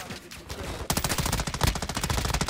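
Rapid automatic gunfire in the video game DMZ, starting faintly then breaking into a loud, fast, close stream of shots that continues steadily to the end.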